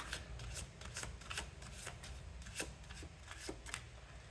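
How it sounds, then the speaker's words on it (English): Tarot cards are riffled and shuffled repeatedly in quick, crisp bursts of rustling and flicking, close up and fairly quiet, with no talking. "One last shuffle."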